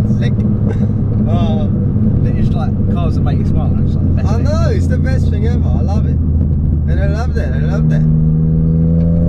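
A 325 bhp hybrid-turbo Ford Fiesta ST drones and revs steadily at close range, with turbo flutter in the engine note and people talking over it throughout.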